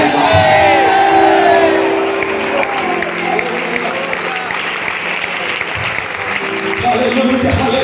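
A church congregation at a general retreat bursts into loud applause mixed with cheers, whoops and shouted voices, the clapping and crowd noise sustained and dense throughout, with higher cries rising over it early on.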